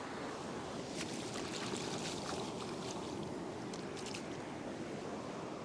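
Ocean surf washes onto a beach during night fishing under a new moon, a steady broad roar of breaking waves that stays even throughout, with no voices.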